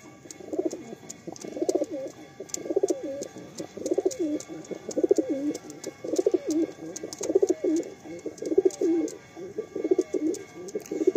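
Madrasi pigeons coo in repeated low, throaty phrases close by, a continuous rhythmic burbling from several birds with faint background chatter.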